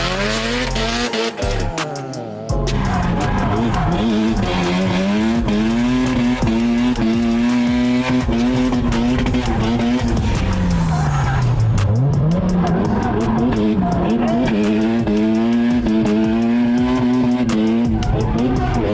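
A drift car screams at high revs while its tires squeal in long, sliding howls, the engine pitch rising and dipping through a sustained loud run with no talk.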